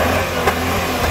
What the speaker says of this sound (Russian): Газует, жестко газует.